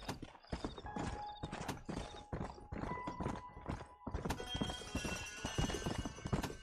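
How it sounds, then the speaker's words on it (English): Horse hooves clip-clop steadily at a trot in Red Dead Redemption 2, a close, loud rhythmic beat of sharp hoof strikes on the ground, quickening toward the end, with faint background game ambience. "I want to ride the horse."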